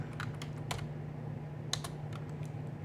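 Light keystrokes on a computer keyboard entering a Linux terminal command, a few soft scattered taps over a low steady hum, faint and close.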